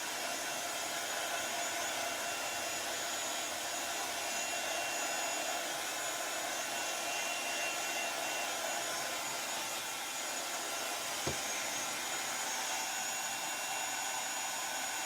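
A hair dryer blows steadily on a craft treasure box, a loud continuous close whoosh running unbroken throughout, with a single faint knock near the end and no talk.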